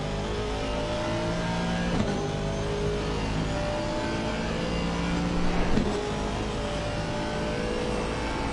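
A GT3 race car engine in Assetto Corsa Competizione accelerates hard around Suzuka, a loud, sustained high-revving roar that climbs through the gears with brief dips at the shift points.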